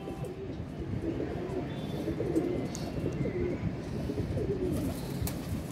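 Rampuri pigeons coo in soft, repeated low calls close by, with faint chirps and ambient rustling around them.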